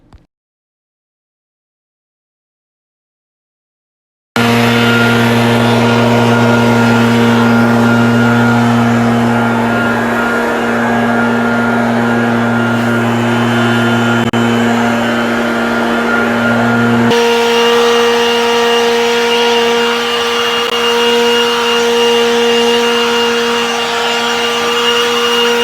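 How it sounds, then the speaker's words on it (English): Gas-powered leaf blower clearing a light, fluffy two-to-three-inch snowfall, a steady loud motor drone that starts after a few seconds of silence and shifts pitch partway through, running continuously alone. "I used a leaf blower"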